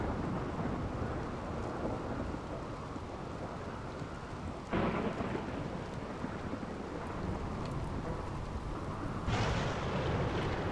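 Thunderstorm in the video game RimWorld: steady heavy rain hiss with low rumbling thunder, broken by two sharp cracking thunderclaps, one midway and one near the end.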